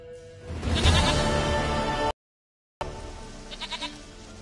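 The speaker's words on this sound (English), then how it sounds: "Goat of mine, dearest, sweetest goat." A goat in The Witcher video game bleats loudly in a drawn-out, quavering cry, and after a short silent gap a second, quieter bleat follows.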